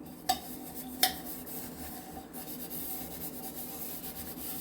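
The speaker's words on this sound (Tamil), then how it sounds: "பாத்திரம் விளக்கிறதுக்கு வந்து பார்த்தீங்கன்னா ரொம்ப ஈஸியாக இருக்குது." Dishes are scrubbed by hand in a home kitchen, with steady rubbing and scraping and two sharp clinks of utensils or pans near the start, close and fairly quiet.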